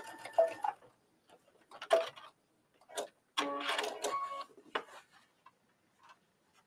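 A sewing machine stitching a quilt seam runs in short bursts of rapid ticking, pausing between runs, close and fairly quiet.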